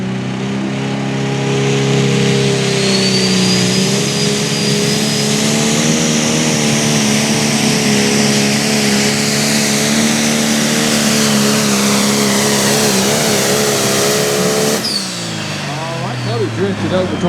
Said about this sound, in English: Cody Doss out of Lawrenceburg, Tennessee on the 6030 John Deere called the Volunteer Deere.